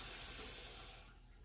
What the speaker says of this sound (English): I'm going to go ahead and take my can and fill it up with water.